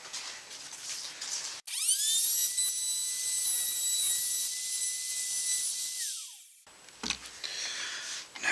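A power tool, likely a router, cuts a guitar neck along a template, starting abruptly with a loud steady high whine that holds for several seconds, then spins down, with quieter workshop noise before and after.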